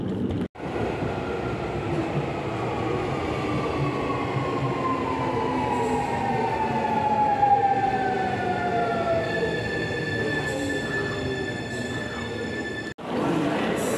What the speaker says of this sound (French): C'est le quai de la gare de Komaba Todaimae et j'attends le